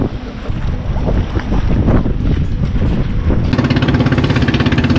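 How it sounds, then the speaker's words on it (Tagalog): Loud, steady wind roaring and buffeting the microphone, with rushing water and boat noise underneath throughout. "Grabe, ang lakas ng hangin."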